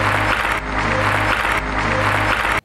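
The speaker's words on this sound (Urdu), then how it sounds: "بلاول بھٹو زرداری صاحب تالیاں بجا رہے ہیں، دکھ رہے ہوں گے آپ کو، مسلسل تالیاں بجا رہے ہیں" Bilawal Bhutto Zardari clapping continuously amid a crowd, loud dense applause with a steady hum underneath, cutting off abruptly at the end.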